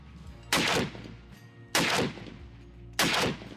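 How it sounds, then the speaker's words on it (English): AK-50 rifle firing three single heavy shots about 1.2 seconds apart, each a loud sharp blast with a booming decay, close by. "look at the power of that gun"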